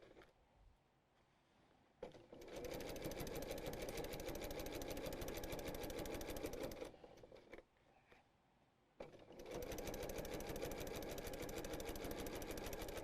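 Sewing machine stitching down the edge of a quilted tote bag with a zipper, a steady loud mechanical hum that runs in long bursts, stopping briefly twice before starting again.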